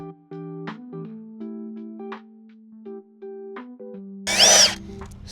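Power drill driving out screws from a LiftMaster LA500 gate opener arm, with a whining motor that steps between pitches in short repeated runs, then a harsh, louder grinding burst near the end.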